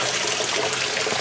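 Water running and trickling through an aquaponics system in a garden growing lettuce seedlings and beans, a continuous close splashing wash with no voices.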